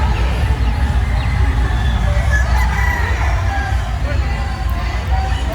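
Gamefowl roosters crow and cluck at a Lipa City, Batangas game farm booth during a gamefowl expo in the Philippines, heard under a steady crowd hubbub and nearby talk.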